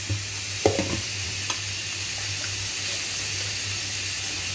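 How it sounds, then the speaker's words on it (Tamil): Spinach sautéing in a pan for fried rice with anchovies, a steady close hiss of frying with a low hum underneath and a few light clinks of stirring near the start, no voices. "இப்போது இது எல்லாத்தையும் நல்லா சாட்டே பண்ணிக்கோங்க."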